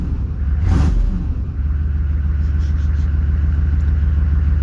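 A truck engine idles steadily after a cold start on a freezing 30-degree morning, a deep continuous rumble close by with a brief whooshing swell near the start.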